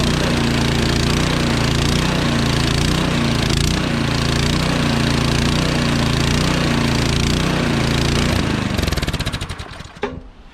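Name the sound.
Troy-Bilt Storm 2620 snowblower engine surging on choke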